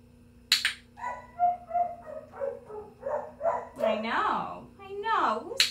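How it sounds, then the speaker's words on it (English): A dog whining and yipping in a string of short, pitched cries. Someone talks softly over the sounds. "I know, who's barking?"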